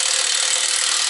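A 1/2-inch cordless impact wrench, a Dewalt DCF899H or a new Milwaukee, runs at full torque while loosening: a loud, harsh, unbroken buzz with no pauses.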